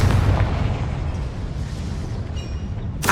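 A Confringo fire spell in Hogwarts Legacy erupts as a loud, sustained blast that rumbles and slowly decays, with a sharp crackling burst cutting in at the very end.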